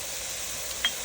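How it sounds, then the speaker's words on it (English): A small amount of sesame oil sizzles in a pan as a steady, fairly loud hiss, with one brief crackle near the end of the short clip. "I'm gonna put just like a tiny bit of sesame oil"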